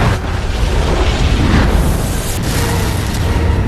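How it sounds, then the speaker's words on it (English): A huge film explosion beside a yacht on the water: a loud, continuous broadband roar and rumble that fills the whole stretch with no distinct onset and no voices. "A huge explosion turned the piranhas into grilled fish, and Jamie and Anna were rescued."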